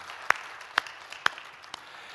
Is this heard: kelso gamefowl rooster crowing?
no